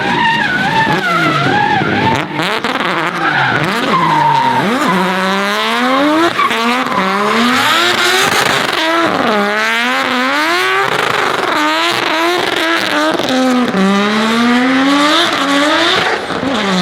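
Loud, rorty race car engine on a wet Goodwood Festival of Speed hillclimb, running on wet weather tyres, rising and falling through repeated gear changes and revs as it climbs, close and continuous with no talk.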